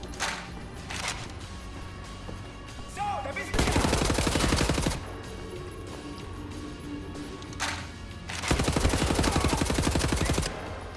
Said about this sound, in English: I'm gonna go to the machine gun. It's old, reliable.